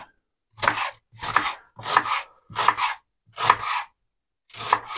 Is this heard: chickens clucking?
no